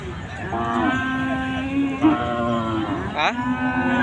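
A bull at a Bangladeshi cattle market lows several times nearby, drawn-out moos spaced a second or so apart, loud and clear.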